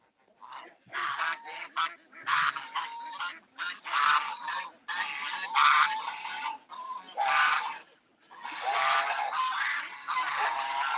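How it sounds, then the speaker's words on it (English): Geese fighting in a yard, with a loud run of overlapping honks and harsh calls coming in repeated bursts of a second or two, close and almost continuous for the whole stretch. "Oh, goose fight."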